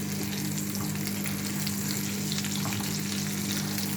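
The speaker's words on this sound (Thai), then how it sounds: "พัดเนื้อใส่นอใหม่ดองแม่เพื่อนๆจ้า" Beef stir-frying with pickled bamboo shoots, garlic and chilli in a pan, a steady close sizzle and crackle of hot oil running throughout with faint stirring, no voices.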